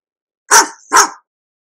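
Two sharp dog barks in quick succession, close and loud, with silence before and after.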